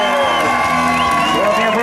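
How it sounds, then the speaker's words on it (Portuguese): Congregation clapping and cheering together at a church celebration honouring a pastor's birthday, a dense, loud burst of applause with whoops and shouts throughout. "Uma salva de palmas"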